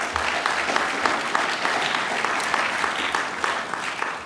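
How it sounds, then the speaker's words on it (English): Audience applause at a National School Choice Week student rally, sustained dense clapping from a large crowd, loud and even throughout. "Give them a big round of applause."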